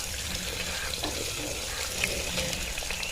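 Spices and onions sautéing in oil in a pan, a steady soft sizzle with a washy hiss, moderately quiet and continuous.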